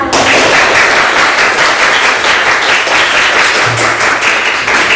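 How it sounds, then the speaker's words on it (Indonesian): A classroom audience claps steadily for about five seconds, a dense, loud, even burst of applause with no talking over it. "Kita berikan aplaus."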